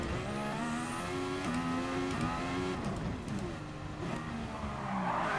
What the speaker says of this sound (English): as I backed off the brake, you could hear the engine pick up